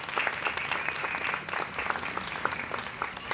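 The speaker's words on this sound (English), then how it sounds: "So he deserves a round of applause as well" An outdoor crowd at a Progress Pride flag blessing ceremony applauds in a steady, dense wash of clapping that holds evenly throughout, with no voices on top.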